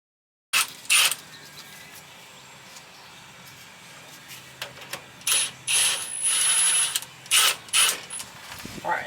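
Half-inch bolts come off a differential cover on an Astro Safari van, heard as repeated bursts of ratchet clicking and metallic rattling with short pauses between, close and fairly loud.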